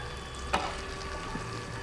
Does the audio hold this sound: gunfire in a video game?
no